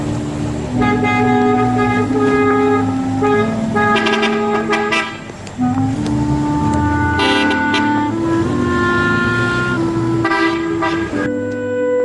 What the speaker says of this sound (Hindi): यलसन अंकल, हॉर्न बजाएं ताकि सबको पता चल जाए कि हम जा रहे हैं